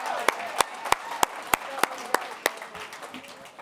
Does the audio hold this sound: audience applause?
yes